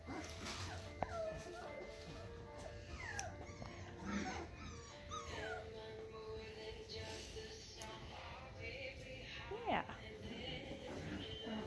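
Four-week-old puppies whimper and yip in high, thin bursts on an enclosed playground, against a busy background with people talking nearby.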